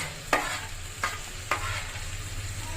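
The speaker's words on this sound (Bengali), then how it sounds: "এবার আমি কিছুক্ষণ মশলাগুলোকে কষিয়ে নেব।" Ground spices such as cumin, coriander, black pepper, garlic and ginger paste frying in a pan for a katla fish curry, a steady sizzle broken by three sharp scraping stirs, close and fairly quiet with no voices.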